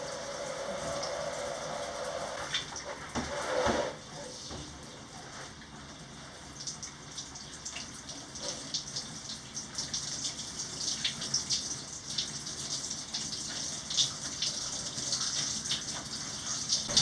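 Shower water runs steadily in a continuous soft hiss of spray that rises and falls slightly, with a few brief knocks and splashes.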